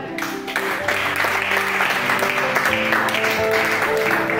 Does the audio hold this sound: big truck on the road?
no